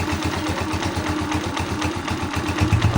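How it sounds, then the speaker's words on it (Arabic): A Hojan 150cc motorcycle engine with its exhaust blocked idles steadily nearby, a continuous low, even thumping pulse with no rattle, holding at a constant level and swelling slightly toward the end. "سامعين الموتور كده؟"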